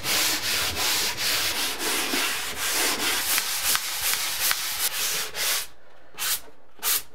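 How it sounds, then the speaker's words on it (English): Pole sander scraping over dried joint compound on a ceiling, a continuous close abrasive rubbing in repeated back-and-forth strokes that breaks into short separate passes near the end, with no talking. "I am going to use the sanding pole on the ceiling because it's kind of awkward"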